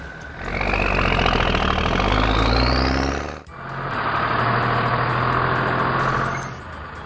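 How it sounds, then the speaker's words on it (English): A garbage truck engine roars close and loud, a rising mechanical whine climbing over the rumble before a brief dip, then a steady heavy drone that swells near the end, with no voices. "Garbage truck."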